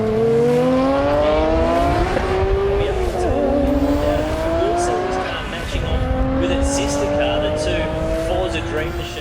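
A 750hp Nissan R32 GT-R makes a test run at a drag strip, its engine revving hard through rising gear pulls with tire squeal, loud and close throughout.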